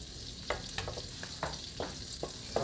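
Butter melting into hot olive oil in a pan gives a continuous bright sizzle, punctuated by several quick utensil clicks and stirs, close by and without talk.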